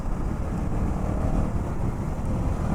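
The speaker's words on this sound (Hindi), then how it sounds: "बाइक की जो ये आवाज़ है, ये बहुत पसंद है मेरे को" A motorcycle engine rumbles steadily while the bike is ridden along an empty, straight open road, a dense low drone mixed with wind buffeting, with no talking.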